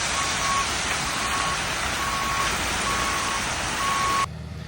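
A truck sounds its reversing alarm in a steady series of loud, high beeps over broadband engine and road noise, arriving at a house to grade a yard for stone; the engine noise drops abruptly near the end.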